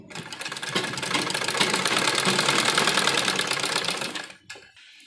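A sewing machine stitches a rib strip onto the neckline of a child's frock in one fast, even run of rapid mechanical chatter, close and loud, slowing and stopping abruptly near the end.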